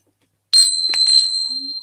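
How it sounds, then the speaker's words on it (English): Tibetan bells sit close to a microphone; after a short silence, a sharp metallic strike rings out as a bright, sustained shimmering tone that lingers loudly. "My Tibetan bells are gonna make them deaf."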